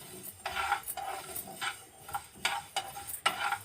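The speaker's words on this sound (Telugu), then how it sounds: "ఇది సిమ్లో పెట్టుకుని వేయించుకోవాలి." A spoon stirs and turns dry ingredients roasting in a pan over a low flame, giving repeated scraping strokes with a soft sizzle, close and fairly quiet, with no talking.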